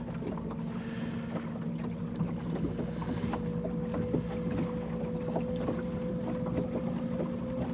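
Caroute W400 electric outboard pushing a Glastron CVX16 boat as it speeds up on the water, a steady motor hum with water splashing and light wind across the hull, no talking.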